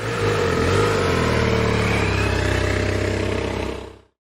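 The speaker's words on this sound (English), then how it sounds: "Police motorcycle," A police motorcycle's engine revs close and loud, a sustained buzzing roar with a strong droning tone that holds steady for about four seconds before stopping.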